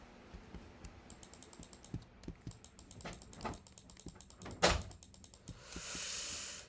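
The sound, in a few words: clicking keys or mouse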